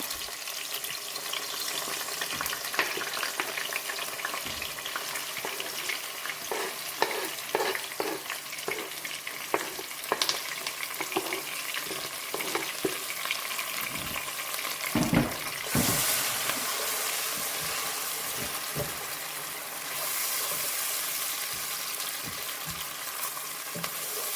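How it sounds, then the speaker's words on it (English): Onions and seasonings for Guyanese shine rice sauté in a pan, a steady close sizzle with scattered clinks and scrapes of stirring throughout, no talk. "We're gonna let this saute for like a good 5 minutes, just to kind of cook it down a little bit."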